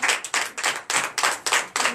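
A church congregation claps in a quick, even rhythm, about eight sharp close claps in two seconds with no voices.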